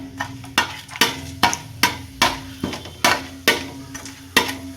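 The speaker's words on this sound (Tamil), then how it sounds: "இப்போ வதக்கி விட்ருவோம்" Whole cloves and cardamom pods being stirred in a hot pan for chicken tikka biryani, a spoon striking the pan in a regular series of sharp clanks over a low sizzle, close and loud.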